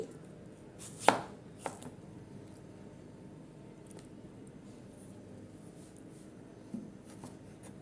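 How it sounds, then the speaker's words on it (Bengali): Peeled raw mango is sliced thin against a boti blade, a few sparse, quiet cuts, one crisp chop clearly louder than the rest, separated by long near-silent pauses. "একটা বোটের উপর রেখে আমি আম কেটে নিচ্ছি"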